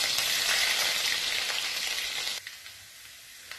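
Chopped garlic dropped into hot oil with already-popped mustard seeds sizzles loudly and steadily, then the frying quietens abruptly partway through to a softer crackle, for an egg pepper roast.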